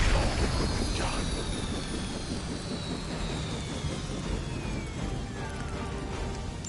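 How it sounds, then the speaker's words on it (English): Helicopter in the video game Marvel's Midnight Suns, a loud, steady broadband engine and rotor roar with faint whining tones sweeping downward, continuous for several seconds with no gaps. "You've grounded the helicopter."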